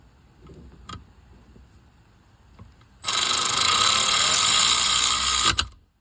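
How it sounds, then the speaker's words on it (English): A ratchet torques down the seat rail bolts on an Infiniti Q50 during a seat occupant sensor replacement: a few sharp clicks, then a loud, continuous mechanical whirring for about two and a half seconds before stopping abruptly. "now you can tighten it up, because the two studs in the rail, right there and there, will hold the sensor in place while you torque it down."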